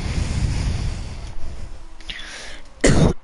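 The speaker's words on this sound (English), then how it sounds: "Cough, cough." One sharp, loud cough near the end, after a stretch of rumbling wind-like noise.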